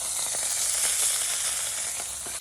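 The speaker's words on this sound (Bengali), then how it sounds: "যে মাছগুলো ভালো করে ভেজে নেবো" Fish frying in hot oil for a Bengali fish dish makes a loud, close, continuous sizzle with faint crackles throughout and no voice.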